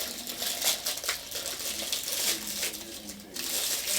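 KFC corn on the cob packaging being ripped open by hand, a close run of crinkling, tearing plastic rustles in short irregular bursts.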